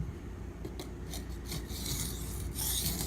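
A knife blade rasps across an aluminum oxide whetstone in short, quick strokes, close and clear, with several bright grinding passes in a row and no talk.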